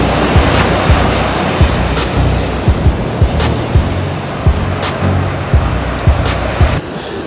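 Rough surf crashes steadily on a beach between Búzios and Cabo Frio, a loud continuous roar of breaking waves with wind noise throughout and no talking.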